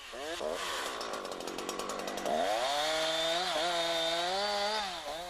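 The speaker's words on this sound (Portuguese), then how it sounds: "Corte os ramos no lado de cima do tronco com a serra deitada" A chainsaw cutting branches from the upper side of a tree trunk, its engine droning loud and close, pitch rising and falling as the blade bites, with a rapid rattling stretch early on.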